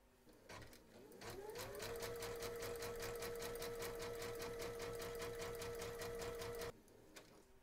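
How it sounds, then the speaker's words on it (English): A home embroidery machine stitches fabric onto its hoop for an in-the-hoop bag: after a brief rise it settles into a loud, steady motor hum with rapid rhythmic needle clatter for about six seconds, then stops abruptly. "We're now going to pop our hoop into our machine and stitch round number 3, and that's going to stitch along here"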